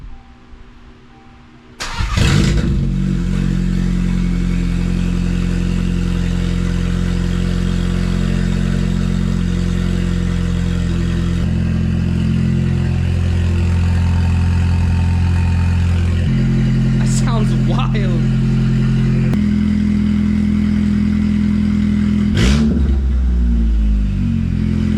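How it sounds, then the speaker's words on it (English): A Volkswagen Mk8 GTI engine cranks and fires up with no exhaust fitted, then idles loud and raw with harsh, unmuffled rumbling and a few revs throughout. "we're gonna start it with no exhaust"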